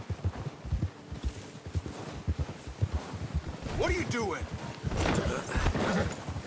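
Horse hooves clip-clop in a steady walking rhythm in Red Dead Redemption 2, close and moderately loud beneath frequent speech, with a brief whinny-like cry partway through.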